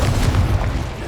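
A short, deep booming burst from a fire spell cast in the Hogwarts Legacy video game, a single low rumbling blast with no voices.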